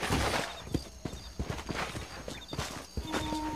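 Horse hooves clip-clop in a video game, a brisk irregular patter of hoofbeats close by with a short whinny-like tone near the end and no clear speech.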